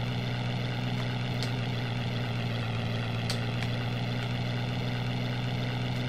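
A WWI biplane engine drones in the Amiga flight game Knights of the Sky, a steady, loud, unbroken propeller hum with a few faint clicks on top.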